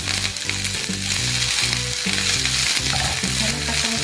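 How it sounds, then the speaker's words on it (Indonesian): Long beans stir-fried in a pan after aromatics have browned, a loud, steady sizzle and crackle with rhythmic scraping and stirring strokes recurring throughout, close up and with no talking. "Ini juga nggak bakal aku tumis lama-lama karena aku nggak suka sayuran yang lembek."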